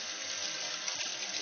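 A steady rush of running tap water pours continuously while canning jars are rinsed in a sink, close and even with no talking.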